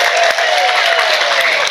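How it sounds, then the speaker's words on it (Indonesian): Loud, steady applause from a women's audience at an Islamic religious gathering, a dense continuous clatter of clapping filling the whole stretch with no talk over it. "Tepuk tangan sepindah malih matur nuwun."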